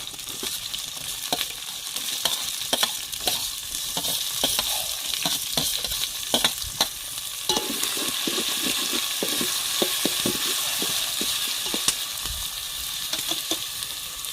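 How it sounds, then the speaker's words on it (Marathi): Chopped tomatoes fry with browned onions in a pan for a Kolhapuri-style goat trotter curry, giving a steady close sizzle broken by frequent sharp scrapes and clicks of stirring. "आता आपण टोमॅटो कापलेले ॲड करू याच्यामध्ये"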